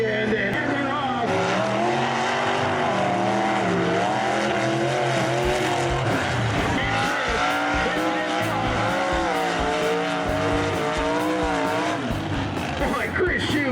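Big mud trucks launch off the start line at a mud racing event, engines roaring loud and continuous at full throttle, with an announcer talking over the din.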